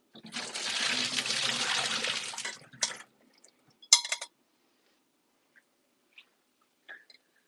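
Water from boiled soya chunks pours through a strainer in a steady close splashing rush for nearly three seconds, followed by a couple of brief clinks and faint drips in an otherwise quiet kitchen.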